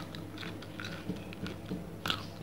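Crunchy homemade cucumber pickle bitten and chewed close up, a few crisp crunches and chewing sounds in quick succession with a sharper bite near the end, no talking.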